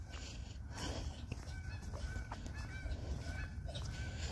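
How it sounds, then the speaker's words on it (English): Geese honk on a farm, their calls repeated and overlapping at a moderate distance over a constant outdoor background noise. "Ooh, the geese are out today."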